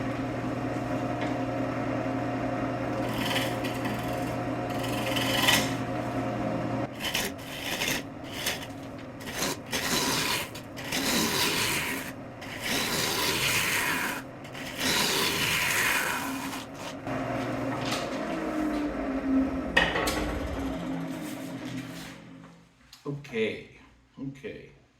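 English walnut vase spinning on a wood lathe at about 1,200 RPM, with a steady motor hum and loud, close bursts of tool scraping and rasping against the wood, and a voice talking over parts of it.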